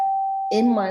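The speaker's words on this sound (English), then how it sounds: "that is my doorbell," A single sustained electronic doorbell tone rings for half a second, then a voice starts talking over it.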